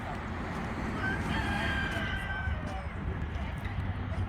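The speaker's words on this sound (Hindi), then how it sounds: "मुर्गियों की आवाज़ें आ रही हैं पीछे से और मुर्गों की अजानें देने की, बांगें देने की" Chickens cluck and a rooster crows in the background of a backyard outdoors, the flock noise steady and fairly distant beneath a low rumbling ambience, with faint speech mixed in.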